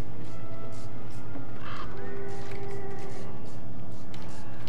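A tallbird creature in the video game Don't Starve calls with repeated harsh, crow-like squawks over a steady game music and ambient drone, fairly close and clear.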